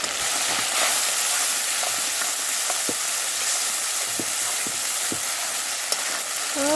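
Crab fries with ground spice paste in a pan, giving a loud, even sizzle close by, broken by light taps and scrapes as it is stirred.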